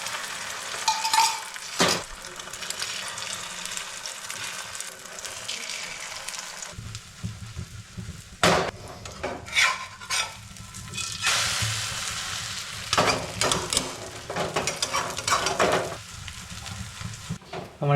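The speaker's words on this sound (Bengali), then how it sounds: "এবার খালি ডিম ভাজা করতে বাকি।" An egg fries in a pan with a continuous close sizzle and intermittent scraping and clatter of a utensil against the pan.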